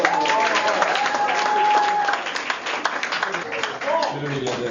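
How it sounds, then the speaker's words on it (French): An audience applauds after a theatre troupe's exercise, a broad burst of clapping that is strong at first and then thins a little, with voices mixed in under it. "si vous avez aimé l'exercice, applaudissez encore"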